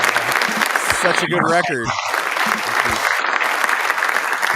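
Studio audience applause during a talk show, a steady wash of clapping running throughout while someone speaks briefly over it.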